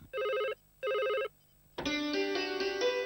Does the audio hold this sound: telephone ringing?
yes